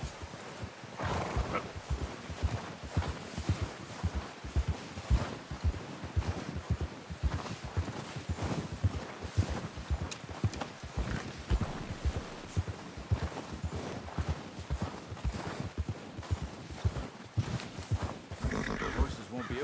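Horses in Red Dead Redemption 2 clip-clopping along steadily with occasional whinnies and snorts, set against a busy game soundscape while voices talk over it.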